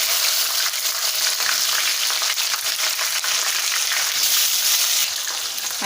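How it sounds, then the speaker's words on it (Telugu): Drumsticks fry with mustard seeds and cumin in a pan, giving a loud, steady, dense sizzle that carries on without a break and has no voices over it. "జీలకర్ర ఆవాలు వేగిన తర్వాత ఇందులోకి మునక్కాయ వేసుకుంటున్నాను."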